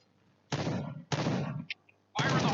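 Three loud bursts of rapid gunfire in the game Point Blank, each lasting about half a second, separated by brief quiet gaps with a faint click in between.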